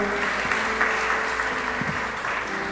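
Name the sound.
congregation applauding in church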